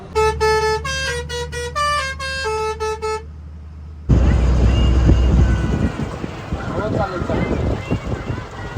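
A bus horn on a road trip toward Prayagraj plays a short, loud musical tune of stepped tones for about three seconds, then stops and gives way to heavy, steady road and wind rumble.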